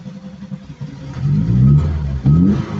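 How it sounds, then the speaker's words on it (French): A Lada 70 car with a small OHV engine, warm after a hot start, revving up twice with rising pitch, loud and close, with no talk. "ah bah c'est un moteur OHV"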